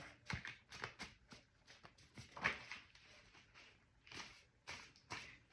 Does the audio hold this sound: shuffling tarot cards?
yes